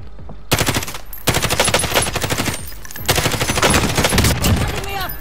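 Rapid automatic gunfire from the video game Warzone rattles in dense, close bursts with short gaps between them, loud and sharp throughout.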